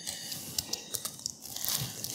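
A knife slices through lemon bars into thirds, giving several soft, close crunching cuts with faint scraping between them.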